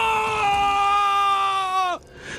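A man screams by a riverbank, a loud, sustained, tonal cry lasting almost two seconds before cutting off abruptly.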